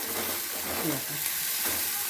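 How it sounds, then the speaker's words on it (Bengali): Steady frying sizzle of shrimp in oil, a broad hiss with occasional stirring scrapes, close and fairly loud throughout. "এইভাবে একটু ভাজা ভাজা হবে"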